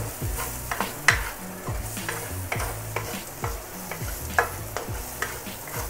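Noodles stir-fried in a pan sizzle steadily while a utensil scrapes and tosses them, with repeated sharp clanks and knocks in an uneven rhythm, close and fairly loud, no talking.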